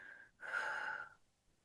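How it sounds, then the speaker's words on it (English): A single deep breath in and out during a healing ritual, close and soft, a hushed rush of air swelling and then fading, with no talking. "Breathe in, taking in a nice deep breath here and letting it go."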